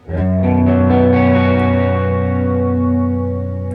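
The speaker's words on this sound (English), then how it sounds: "The only other part I didn't mention was chorus, and that's a very specific sound as well" A sustained clean electric guitar chord with a shimmering chorus effect rings out loud and full, then slowly fades.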